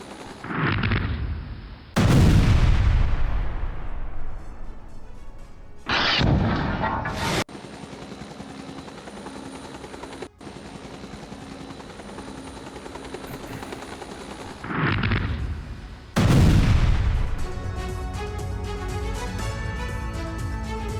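Loud, violent blasts from an Iranian missile test striking a target, several heavy explosions bursting with sharp onsets and long roaring decays, separated by stretches of rumbling aftermath, with no talk.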